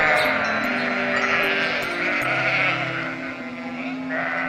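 Bleating from a flock of sheep in a pasture, several overlapping calls layered close and far over a constant outdoor background, with no talking.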